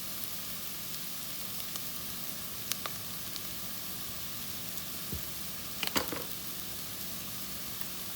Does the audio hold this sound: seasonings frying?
yes